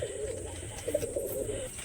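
Soft, low pigeon coos repeat in a gentle rolling rhythm over steady background hiss, fairly close and moderately quiet.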